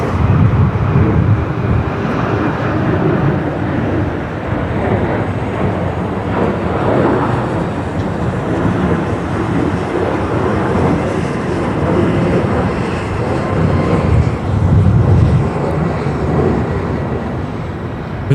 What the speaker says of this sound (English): Right, next departure rolling on this side. Qantas Link 1948. There it is. Just rotating now.